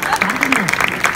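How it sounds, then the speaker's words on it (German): Audience applause at a Continental stand at the IAA motor show in Frankfurt, 2015, welcoming footballer Steffen Freund; a short, dense patter of clapping mixed with a voice sliding in pitch over it. "Herzlich willkommen und Applaus für Steffen Freund."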